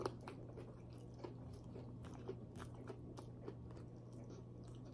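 Close, quiet bites and chews on crunchy panko-breaded chicken breast, a run of crisp crunches at an irregular eating rhythm with no talking.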